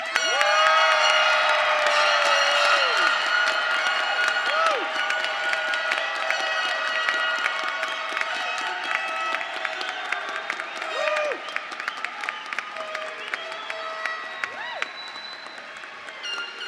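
A large graduation ceremony crowd claps and cheers, loud dense applause with scattered whoops that gradually eases off over several seconds.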